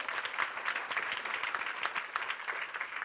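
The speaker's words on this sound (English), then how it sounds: "give him a round of applause" A school audience gives a middle school student a round of applause, many hands clapping briskly in a steady, moderately loud patter with no talking over it.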